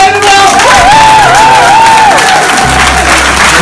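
A cinema audience claps and cheers loudly, dense sustained applause filling the room, with a whooping voice riding over it.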